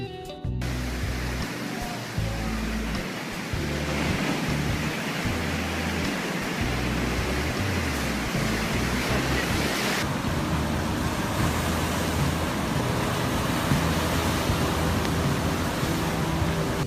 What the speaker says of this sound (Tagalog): Minsan ay sobrang lakas ng mga alon, kaya parang nasa dagat ka na rin.